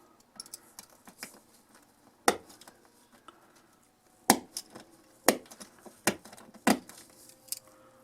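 A knife nips off tie plates on a model drop-down bridge with sharp, isolated clicks and snaps, a handful of crisp cuts spaced irregularly over quiet handling noise.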